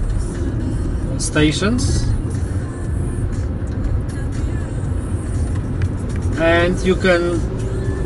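Interior rumble of a VW-group car driving, a loud steady low road and engine drone throughout, with someone talking over it in two short bursts.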